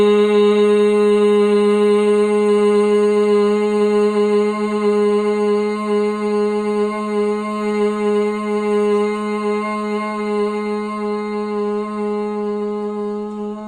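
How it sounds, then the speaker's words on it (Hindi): Sustained, steady humming tone of a Bhramari pranayama (bee breath) exhale with the ears covered, loud and close, holding level and slowly fading over about fourteen seconds with no talk. "छोड़ते हुए हमिंग साउंड करते हैं।"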